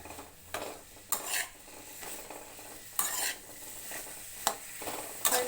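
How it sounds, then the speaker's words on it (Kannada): Sliced bitter gourd frying in about two teaspoons of oil for a Kannada gojju curry, with a steady hiss broken by repeated sharp scrapes and clatters of a spatula against the pan. "ಇವಾಗ ಚೆನ್ನಾಗಿ ಎಣ್ಣೆಯಲ್ಲಿ ಹಾಗಲಕಾಯಿನ ಫ್ರೈ ಮಾಡ್ಕೊತೀನಿ"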